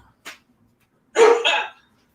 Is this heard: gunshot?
no